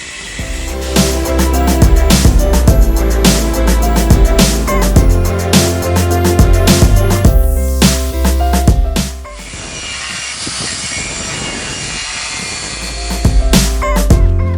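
Gas torch cutting a round disc out of metal sheet for a waste engine oil burner, a loud steady roaring hiss that carries on for most of the stretch, drops briefly partway, then surges again.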